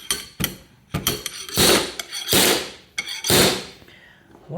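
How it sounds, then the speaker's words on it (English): A moisture meter probe is hammered into timber with a run of sharp, close knocks and metallic clinks, some strikes followed by brief scraping slides, spaced irregularly over a few seconds. "We're going to hammer probe in again."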